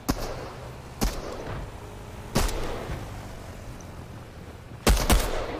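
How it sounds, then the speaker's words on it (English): Gunfire in the Fortnite battle royale game: three separate sharp shots or short bursts spaced about a second or two apart, moderately loud over quiet background noise, with no talking. "Someone's over here shooting at me."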